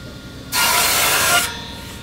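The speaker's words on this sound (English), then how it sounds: "Now we're going to cut the other side." A handsaw rasps through a wooden box piece in one loud, steady burst of about a second, close up, with quiet before and after.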